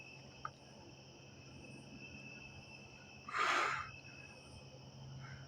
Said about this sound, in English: As the crickets are fucking in the background